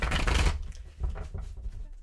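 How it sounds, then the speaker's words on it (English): Tarot card shuffling, a dense riffling burst followed by a few softer, quick flicks and taps. "I'll give this a couple more shuffles."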